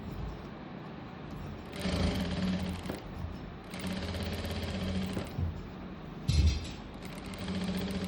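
Sewing machine stitching an umbrella frock, its rapid mechanical whir running in several long bursts separated by short pauses, close and steady, with a brief knock partway through.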